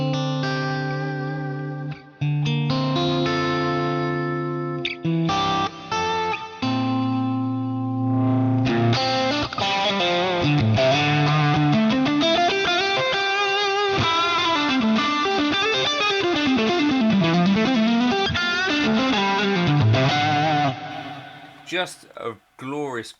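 Electric guitar with single-coil pickups played through a Marshall JCM800 amp, first as sustained chords and then a busy, overdriven lead line with chorus-like shimmer and reverb, loud and steady for about twenty seconds before it cuts off.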